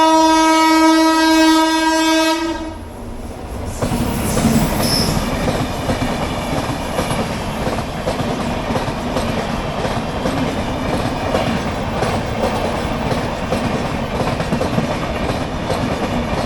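A loud train horn blares, then a train rolls past up close at a railway crossing with steady clattering wheels and metallic squeals.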